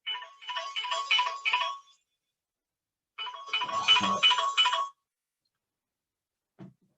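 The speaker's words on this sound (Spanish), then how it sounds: "Voy a apagar el teléfono." A mobile phone ringtone plays loud, bright melodic bursts twice with a pause between, then a short final blip before silence.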